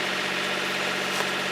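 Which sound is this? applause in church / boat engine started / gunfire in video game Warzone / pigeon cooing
boat engine started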